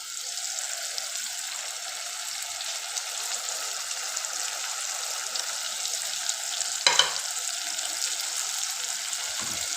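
Cumin, cardamom, black pepper, cloves and salt fry in a prepared masala, giving a steady, close sizzling hiss throughout, with a brief clatter of a utensil partway through.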